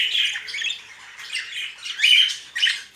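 Pet birds in a breeding cage give repeated sharp squawks and calls in bursts, loud and close, with short gaps between calls and no talking.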